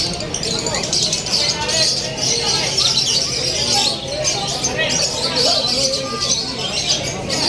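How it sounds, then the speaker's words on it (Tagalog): Many caged birds chirp and tweet at Grotto Pet Market in Bulacan, a dense, continuous chorus of high twittering close by, mixed with market chatter and voices throughout. "Mga ibon niya."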